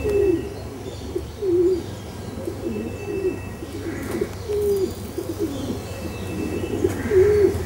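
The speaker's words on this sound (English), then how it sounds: "daily ritual, is to feed his pigeons" Pigeons being fed give soft, repeated rolling coos at close range, several birds overlapping in a steady rhythm, with faint chirps and a low background hum.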